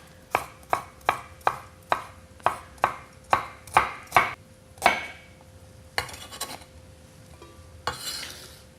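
A knife minces a peeled vegetable stem on a cutting board in about a dozen quick, evenly spaced chops, followed by a few scraping and clattering sounds close by.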